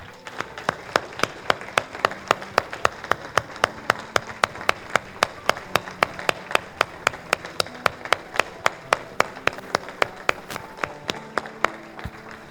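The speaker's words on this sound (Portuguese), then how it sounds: "Vamos aplaudir a Jesus." A church congregation claps together in a steady, regular beat, sharp unison hand claps repeating for over twelve seconds with soft sustained tones underneath.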